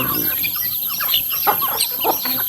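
A young bantam chicken clucks in a backyard farm, several short close clucks and chirps in an irregular rhythm over light outdoor background.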